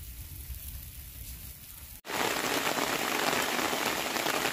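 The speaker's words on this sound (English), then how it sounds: "There's nothing beats the raindrop." Rain falling on a sandbank campsite, a dense, steady hiss of drops that is moderate at first, then after a brief cut turns much louder and closer, as if pelting a tent or tarp.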